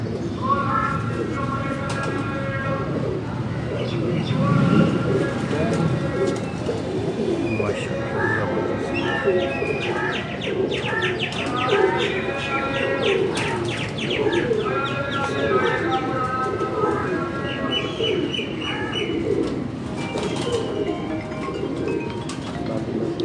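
Pigeons coo repeatedly in soft, throaty bursts, mixed with occasional chirps, while someone talks over them throughout.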